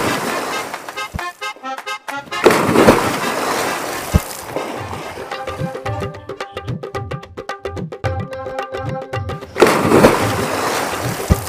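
A person jumps into a pool of cold water beside people standing close by, throwing up a loud, messy splash and sloshing that comes in bursts, with voices talking over and between the water noise.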